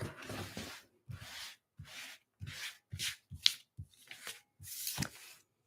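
Repeated short bursts of tarot cards being shuffled and riffled close up, about eight rustling passes separated by brief pauses, quiet and without talking.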